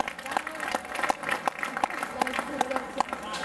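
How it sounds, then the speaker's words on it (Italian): Audience clapping for a singer named Elisa at a summer singing-contest final in Millesimo, steady scattered claps heard alongside an announcer's voice and background music. "Facciamo un applauso a Elisa, che vi saluta."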